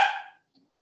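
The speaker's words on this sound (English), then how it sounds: "Pardon my dog." A single short, sharp dog bark close by, then quiet.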